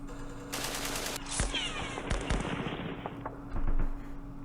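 Gunfire in the war strategy game Campaign Series Middle East, several sharp bursts and cracks firing in quick succession, one louder thump near the end, all over a low steady game hum.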